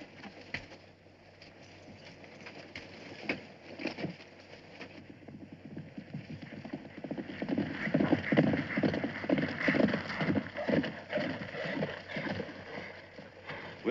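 Hooves clop in an uneven rhythm, faint at first and then louder and busier as several horses move closer, with some low background rumble.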